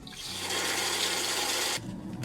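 Water rushes steadily through the heater core of a Renault Scenic 3 during a flush, a loud continuous gurgling flow that drops off sharply near the end.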